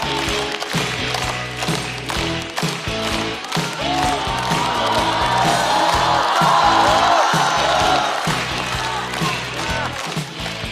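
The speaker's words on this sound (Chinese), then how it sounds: "掌声欢迎孟川。" A studio audience at a Chinese stand-up comedy show claps and cheers steadily as a comedian is welcomed on, a dense, continuous wash of applause with scattered whoops.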